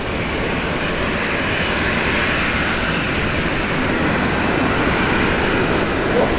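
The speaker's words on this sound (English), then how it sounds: "Let's welcome Retro Roo livery Qantas Flight 610 coming in" The Retro Roo livery Qantas Flight 610 from Melbourne arrives at Brisbane Airport, its jet engines a loud, constant broadband roar with no breaks.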